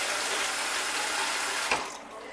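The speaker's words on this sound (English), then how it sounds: "So I'll fill up my jug and leave it close by." Tap water pours steadily into a jug in a home kitchen, a loud continuous hiss and splash that cuts off near the end.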